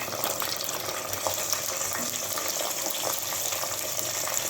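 Onions and tomatoes for a fish curry fry in a pan with a dense, steady sizzle and faint stirring, close and continuous with no talk.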